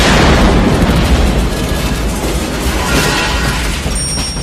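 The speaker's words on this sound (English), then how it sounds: "Grenade! Grenade!" A grenade explosion erupts in a loud, dense boom that fills the whole moment and rolls on as a sustained roaring blast without letting up.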